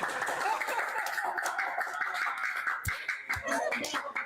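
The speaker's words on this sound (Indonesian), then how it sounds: "Tepuk tangan, Jing." Hands clap in a casual indoor gathering among friends, uneven and fairly close, mixed with chatter and laughter and a couple of low thumps.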